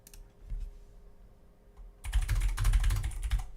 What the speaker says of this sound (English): Yeah, I type super fast.